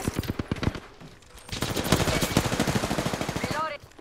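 Rapid automatic gunfire in the Apex Legends battle royale game, with dense, continuous bursts of shots at close range, a brief lull and then another sustained volley, ending with a few ringing mechanical tones.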